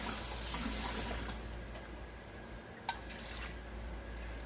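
Water trickles from a cup into flour for a no-knead bread dough, a faint, steady pour at close range.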